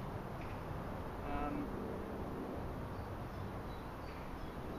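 Honeybees buzz in a steady, soft drone during a hive inspection as baby bees emerge, heard up close under a faint hiss with no one speaking.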